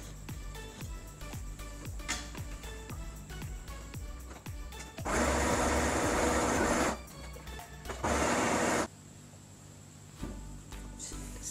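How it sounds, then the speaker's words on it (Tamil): A sewing machine stitches a folded seam on salwar pants in steady rapid bursts, with pauses between runs and two louder, denser stretches near the middle, close and clear with no talking. "இப்படி மடித்து மறுபடியும் ஸ்டிச் பண்ண போகிறோம்"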